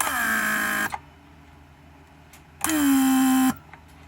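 Door lock vacuum pump on a Mercedes 500SEL W140 running in two bursts, a loud steady electric whine and buzz close by that cuts off sharply each time, with quiet gaps between the runs.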